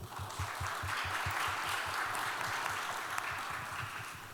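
Steady applause from a large audience at a youth climate town hall meeting for an ambassador and deputy minister, a dense continuous patter of many hands holding at an even level throughout.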